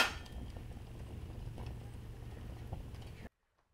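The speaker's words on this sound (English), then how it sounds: "This consists of a spring enclosed in a brass cylinder and requires winding up before it is used." A spring-wound clockwork Victorian bottle jack in a brass cylinder gives a faint, steady mechanical ticking and whirring for about three seconds before stopping abruptly.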